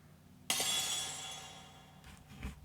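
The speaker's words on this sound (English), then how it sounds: "we actually did the real thing, by hurling wine bottles off of the roof." Glass wine bottles hurled off a roof smash on the ground in one sudden bright shatter, followed by a tinkling spray of shards that fades over a couple of seconds, with a faint later rattle.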